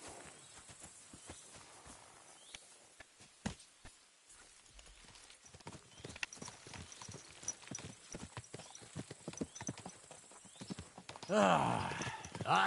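A horse's hooves clip-clop at a walking pace in the Kingdom Come Deliverance 2 video game, moderately loud irregular steps, with a rider's movement and a brief louder rustle near the end.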